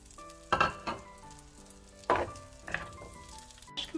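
Onions hit melted butter in a pan and sizzle, with a few louder bursts of hissing as they are tossed, close by over a faint steady hum and no talk.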